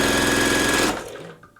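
Sewing machine stitching a quilt block, a loud steady mechanical whir with fast rhythmic needle chatter that stops abruptly about halfway through, leaving a faint quiet tail.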